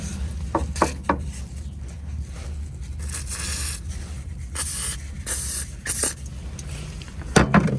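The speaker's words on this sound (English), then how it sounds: "now it's time for WD-40" WD-40 penetrating lubricant sprayed onto a boxer engine bolt in short hissing bursts, close and fairly loud, with scraping and handling noises between sprays and no talking.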